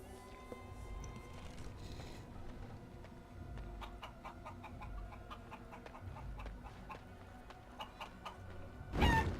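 Chickens in the video game Dragon Age Origins, with a string of soft clucks over a quiet ambient bed and a brief louder sound at the end.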